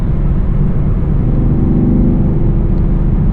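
A Chevrolet Camaro SS 1LE pulls hard in fifth gear, its engine a loud, steady low rumble and road roar heard from inside the cabin, building slightly with no pauses.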